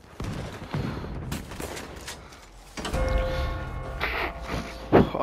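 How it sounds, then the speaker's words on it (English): Gunfire in Red Dead Online comes as scattered shots amid clattering game sounds, growing louder toward the end with a sharp crack near the close. "Oh god, who's shooting me?"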